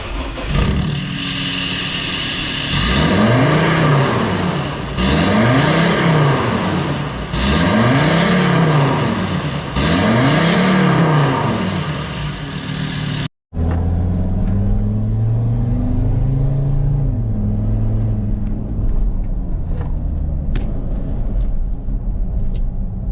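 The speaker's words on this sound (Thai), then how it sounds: "เดี๋ยวไปลองฟังเสียงนะฮะ ว่าพักสูตรของเราจะดังแบบไหน นะฮะ โอดหรือเปล่าในรถเกียร์โต้เอเวอเรสต์คันนี้นะครับ" A Ford Everest automatic with a EURO ARTS aftermarket exhaust revs loudly in four rising-and-falling sweeps, nearby and dominant, then settles into a deep, rumbling idle with small throttle blips.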